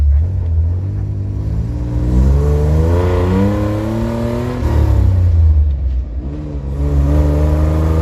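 A car engine revs up and down with rising and falling harmonic sweeps as gears are shifted, loud and close throughout, with a short drop between revs.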